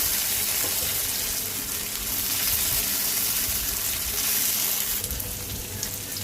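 Onions fry in oil on a griddle, giving a continuous, dense sizzle that stays loud and close throughout without pauses.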